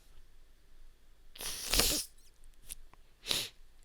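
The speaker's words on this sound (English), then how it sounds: "It's kind of a cough sneeze." A person lets out a cough-like sneeze, a sharp close burst followed by a couple of smaller breathy bursts, with quiet pauses between them.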